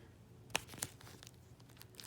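Scissors cutting around a Coloplast Sensura Mio ostomy pouch: a few quiet, crisp snips and crinkles of plastic film, close and irregular, with no talking.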